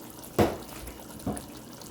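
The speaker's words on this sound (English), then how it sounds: "we just need to add one more batch of water" Water is poured into a pot of Jamaican curry oxtails in two short splashing bursts, the first louder and longer than the second, close by.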